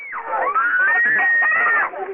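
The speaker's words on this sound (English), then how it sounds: "You can hear their frightened screams." Middle schoolers scream inside a school bus in Albuquerque as a car crashes into it, a high sustained shriek of several voices lasting about two seconds.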